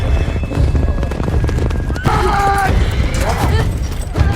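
Horses of mounted troops surround a king in a snowy setting in a film, with neighing and hoofbeats over a loud, dense mix of music and effects, and people talking throughout.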